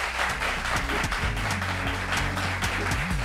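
An audience applauds for a woman being introduced on stage, a dense continuous clapping that stays loud and steady from start to finish.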